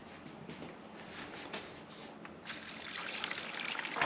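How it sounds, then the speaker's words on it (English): Water pours from a container into a jug in a drainage-rock demonstration, a continuous splashing trickle that starts soft, swells louder toward the end and plays alone without talk. "So I'm going to pour this 9 inches of water into this jug"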